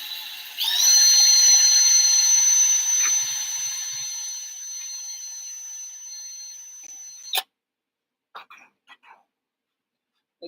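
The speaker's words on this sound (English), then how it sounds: "It's the blow off valve." A blow off valve vents in a steady high-pitched hiss and whine lasting several seconds, then cuts off sharply, followed by a few faint clicks and near silence.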